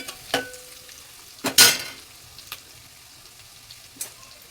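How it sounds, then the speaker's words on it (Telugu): Turmeric frying lightly in oil in a home kitchen, a soft sizzle broken by a few sharp clinks and scrapes of a spoon against the pan, with one louder stirring burst near the middle. "ఇప్పుడు ఇందులో కొద్దిగా పసుపు వేస్తున్నా ఇది కూడా కొద్దిసేపు నూనెలో కాస్త లైట్గా ఫ్రై అవ్వనివ్వాలి"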